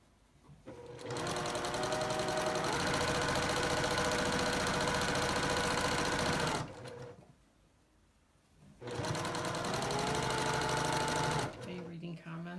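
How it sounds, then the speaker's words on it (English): A sewing machine stitches a quilt in two long runs of rapid, steady mechanical whirring, stopping briefly in between, close and fairly loud with no talk heard. "So I'm sewing a little bit, and then I'm getting this quilt up."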